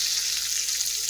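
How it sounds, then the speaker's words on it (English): Poke salad patties frying in olive oil in a frying pan, a dense, even sizzle heard up close and alone. "I got them frying in the frying pan with some olive oil."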